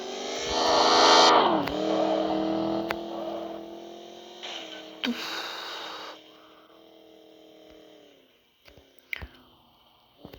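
Chevrolet Cobalt and Damas cars accelerating in a race, a strained engine rising and revving with shifting tones, loud early then easing, with a few sharp knocks near the end.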